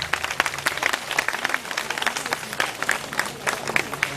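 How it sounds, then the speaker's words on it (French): Audience applause for the theatre troupe Badeya after a first-prize win in a theatre category, a dense, steady wash of many hands clapping at close range, with no one speaking over it. "Il s'agit de la formation Badeya que je vous demande d'applaudir très fort"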